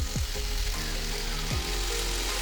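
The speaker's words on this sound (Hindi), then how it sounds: "मशरूम जो फ्राई किया हुआ था वो मैं डाली और उसको अच्छे से मिला के थोड़ा फ्राई की" Already-fried mushrooms return to a hot pan for chilli mushroom, giving a steady, close sizzle, with a few brief squeaky scrapes from stirring and no voices.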